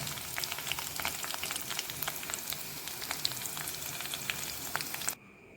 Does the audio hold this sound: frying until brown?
yes